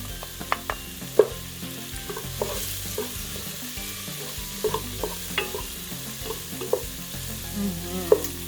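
Lemongrass dropped into a pan for vegan Filipino arroz caldo, sizzling gently while a utensil stirs with scattered light taps and scrapes, close and fairly quiet, with no one speaking.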